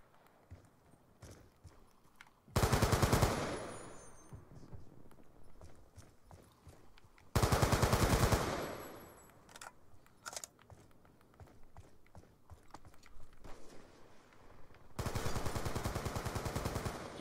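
Automatic gunfire from a Call of Duty Black Ops 2 free-for-all match, three loud sustained bursts of rapid shots spaced several seconds apart, with quieter game noises and footsteps between them.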